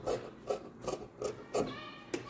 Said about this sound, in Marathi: ही अशी पट्टी मी मधोमध आता कापून घेते